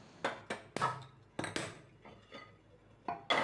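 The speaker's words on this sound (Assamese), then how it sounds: "এতিয়া মই লাহেকৈ গেছটো জ্বলাই মোৰ ক'লা মৰম লগা কুকাৰটো বহাই দিম" A black pressure cooker set onto a gas stove, giving a series of sharp metallic clanks and clinks of varying loudness, close and fairly quiet with no talk.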